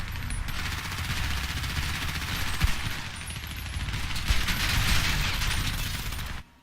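Rapid automatic gunfire in GTA V roleplay crackles almost continuously in long dense bursts, loud and close, swelling again near the end before cutting off abruptly.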